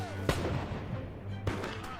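Battle gunfire and artillery from a Revolutionary War fight in North America, with two sharp booming reports over a dense rumbling background, loud and close with a voice in the mix.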